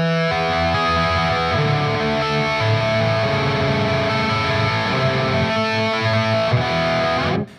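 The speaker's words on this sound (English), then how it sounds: "with the distorted tones and everything, it ends up sounding like this" Heavily distorted electric guitar with a capo arpeggiates chords in a loud, sustained rock intro with a semi-ballad feel, ringing steadily for several seconds before cutting off abruptly at the end.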